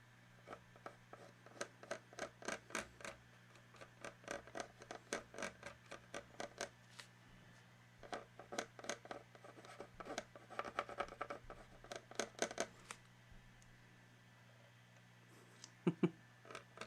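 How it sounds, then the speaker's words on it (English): Pencil sketching on a model train car, a series of quick scratchy strokes in bursts with short pauses, close and fairly soft, over a low steady hum. "So starting with a pencil sketch as always."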